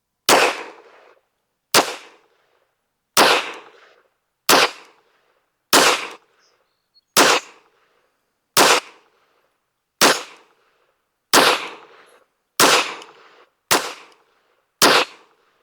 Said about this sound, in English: I want to load this off the slide lock, show you guys that it does chamber just fine off the lock. Let's shoot another group.